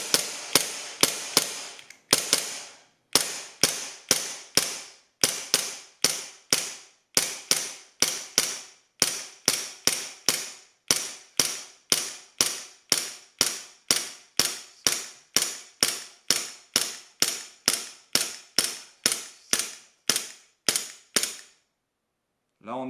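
Secutor Gladius air pistol firing dozens of shots in rapid succession, each a sharp, close snap in a steady, fast rhythm, evenly spaced and loud, with no talk over them.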